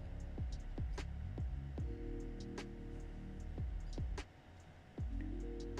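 Sewing machine stitching a seam on a homemade sail for an inflatable kayak, sped up so the motor becomes rapid whirring bursts with sharp ticks and thumps, stopping briefly and then starting again.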